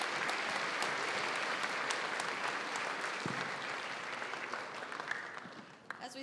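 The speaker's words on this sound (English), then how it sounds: "can we have a big round of applause for these guys?" A school assembly audience at Westminster School claps for the participants on stage at a Cut For Cancer event, a loud, dense burst of applause that holds steady and tapers slightly toward the end.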